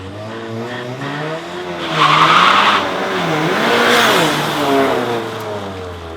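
Turbocharged 1.8T engine revving hard against launch control, a steady droning tone that surges and wavers in pitch, with a burst of tire-squeal-like hiss partway through, loud and close with no talking.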